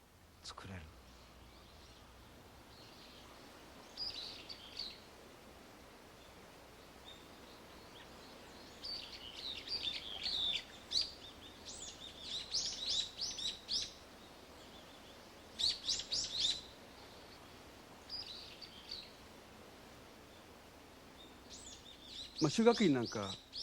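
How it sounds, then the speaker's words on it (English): Bird song in a Japanese garden at Shugaku-in, with neighboring valleys and hills: faint, scattered chirps and short phrases from a single bird recurring every few seconds over quiet ambience, a louder burst near the end. "hear, for example, the sound of a bird, a single bird, and the bird song echoes over the hills"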